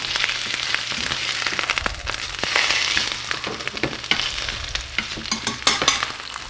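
Crusted tuna searing in oil in a pan, a loud, steady close sizzle with crackling pops and occasional scraping stirs throughout.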